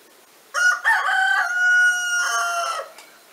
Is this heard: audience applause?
no